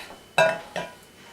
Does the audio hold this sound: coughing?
no